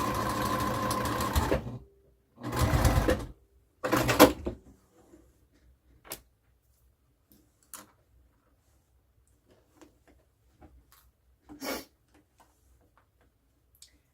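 Sewing machine quilting along the lines of a fabric hot pad, running in three bursts of rapid stitching followed by scattered faint clicks and one last brief whir.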